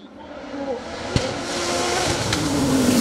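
Nova Proto NP01 Turbo race car at a hill climb in Saint-Gouëno, Brittany, with its engine note rising and building as it approaches, loud and close, with a sharp transient partway through and a French commentator talking over it.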